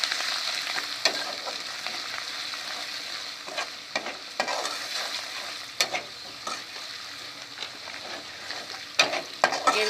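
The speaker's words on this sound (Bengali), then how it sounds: "সব উপকরণ একসাথে মিশিয়ে ভালো করে কষিয়ে নেব" Garam masala and turmeric fry with other ingredients for egg korma, a low sizzle punctuated by scattered spatula scrapes and stirring knocks, near and fairly quiet.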